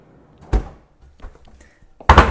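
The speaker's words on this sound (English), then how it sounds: "pull out drawers." Kenmore kitchen cabinet drawers being pulled out, giving two sharp wooden thunks with softer rattles between them, close and fairly loud.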